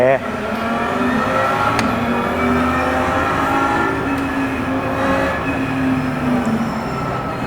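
A pack of nineteen race cars starts a race behind a safety car during a rolling start, their engines producing a loud, steady droning roar with a sustained tone, while people talk over the noise.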